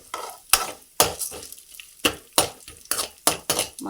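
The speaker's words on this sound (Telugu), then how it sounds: "ఇప్పుడు ఇట్లా చక్కగా వేయించుకోవాలని." Spice mix for drumstick leaf powder being fried in a pan, heard as close, regular scraping stir strokes about every half second over a light dry sizzle, with no talking.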